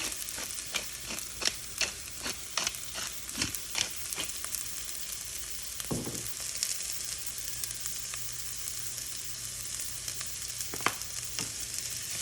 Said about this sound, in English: My peppers have been cooking for several minutes, and now I'm gonna go ahead and add my sliced onion.